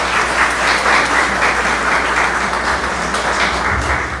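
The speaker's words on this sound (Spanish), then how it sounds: "Fuertes aplausos nuevamente para él," Loud, steady applause from a conference audience at an international legal lecture, a dense wash of many hands clapping evenly for the full length without pause.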